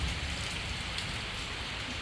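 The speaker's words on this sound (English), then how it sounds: "it looks like the rain is calming down." Steady rain falls at night outside a cat shelter, a dense, even hiss of drops pattering on surfaces that runs unbroken and fairly loud throughout, with no voices.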